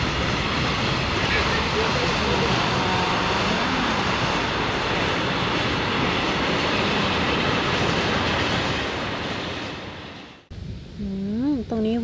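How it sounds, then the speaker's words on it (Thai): A long train rolls past along the Rhine at Bacharach, Germany, a loud, steady roar of wheels and wagons close by that drops away abruptly near the end, followed by a person talking. "โอ้โชคดีมากจะเห็นรถไฟไหลขบวนเลยวันนี้"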